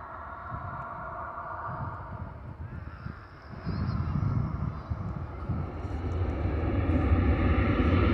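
An airliner jet engine spools up, its roar rising and thickening halfway through while a thin high whine climbs above it; no talking.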